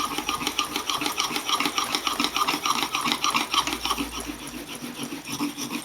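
A wood carving tool is rubbed back and forth on a sharpening stone in a steady rasping rhythm of rapid, even strokes, close and moderately quiet, with no talking.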